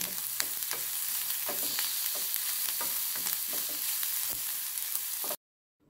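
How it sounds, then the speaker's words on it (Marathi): Grated garlic and two finely chopped green chillies fry with onion in a pan for a pumpkin flower bhaji, a steady loud sizzle with occasional stirring scrapes, cutting off abruptly near the end. "हे कांद्या बरोबर तळसून घेऊया।"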